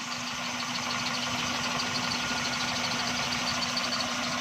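A Suzuki Xli car engine idles on CNG after tuning, giving a steady, even hum with a constant low tone and no changes in pitch, heard close up and alone.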